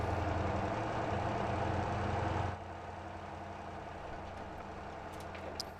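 An untuned, non-stock truck engine in Motor Town drones steadily while hauling a heavy steel load uphill, a dense rumbling hum that drops abruptly to a quieter idle-like level partway through.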